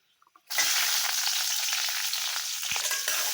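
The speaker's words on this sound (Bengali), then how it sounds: "আর আমি দিব পেঁয়াজ আর কাঁচামরিচ" Onion and green chillies dropped into hot oil with garlic for a radish lentil dish, a few soft taps then a sudden loud, steady close sizzle that carries on with faint stirring scrapes.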